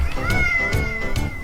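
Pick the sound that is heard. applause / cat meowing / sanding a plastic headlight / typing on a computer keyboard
cat meowing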